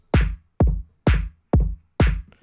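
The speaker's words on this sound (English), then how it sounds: "So together the kick and clap compressed sound like this." Kick and clap drums sent together through a compressed drum bus in a bass house style, five punchy hits evenly spaced about half a second apart, each a booming low thump with a bright clap snapping on top and a short tail.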